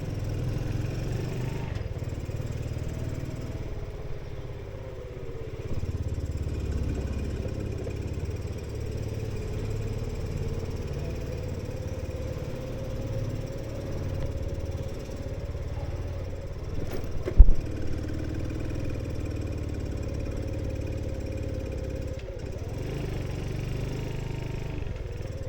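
A car engine running smoothly after an oil change, a low steady hum and drone heard from inside with little variation, one brief knock partway through.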